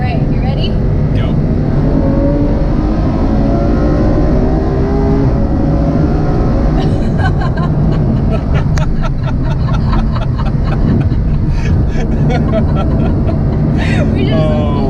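A Ferrari F12 Berlinetta accelerating hard past other cars, a loud continuous engine roar heard from inside the car, swelling and shifting as it pulls through, with brief voices over it.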